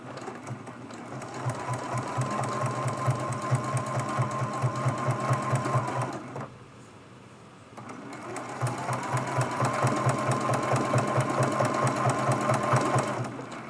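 A sewing machine stitches appliqué pieces for a Christmas tree ornament with a steady, rapid whirring run, pauses briefly for about a second, then resumes at the same even pace, close and fairly loud.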